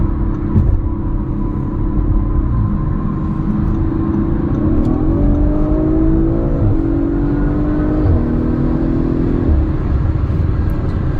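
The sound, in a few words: 2021 Audi RS5 Sportback accelerating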